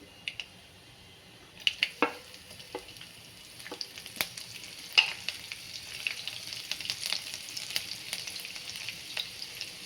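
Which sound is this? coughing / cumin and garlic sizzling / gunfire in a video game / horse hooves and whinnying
cumin and garlic sizzling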